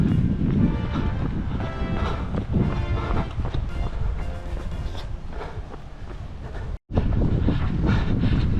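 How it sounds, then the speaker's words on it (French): Gusty wind buffets the microphone at an outdoor marathon in Montauban, a loud, rough low rumble that surges and eases throughout, with a brief dropout near the end. "Par contre le vent s'est levé"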